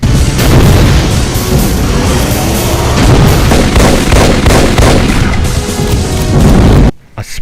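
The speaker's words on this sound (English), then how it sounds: "spread of large cannonballs, volleys of fireballs" Heavy in-game barrage from a Doom mod: a spread of large cannonballs and volleys of fireballs firing, dense, loud and continuous with booming impacts layered over one another, breaking off abruptly near the end.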